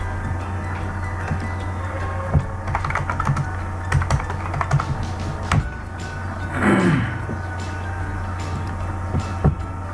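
Computer keyboard keys clack in uneven bursts as placeholder text is typed, fairly close and clear, with short pauses between runs of keystrokes and a brief sliding sound midway.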